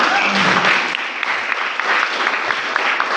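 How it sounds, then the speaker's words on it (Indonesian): Congregation at an interfaith harmony gathering in Tebo Regency clapping, a moderate, steady patter of applause filling the space, with faint voices and chatter mixed in. "Tepuk tangan untuk beliau."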